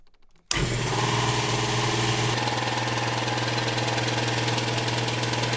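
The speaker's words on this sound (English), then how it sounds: "Okay, sweet, my air compressor is working." A workshop air compressor kicks on abruptly and runs with a loud, steady mechanical drone and rapid pulsing chug, shifting slightly in pitch after a couple of seconds.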